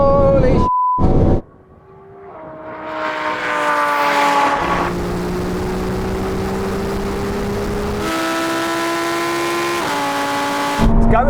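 Supercars in a drag race (Ferrari 296 GTB, McLaren 750S, Lamborghini Huracán Performante, Porsche 911 Turbo S) launch and accelerate hard, engines revving loudly with rising gear-by-gear pitch sweeps and shifts, close and continuous.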